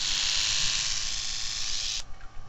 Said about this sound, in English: So it's like a little Hoover. And then you can either have it on normally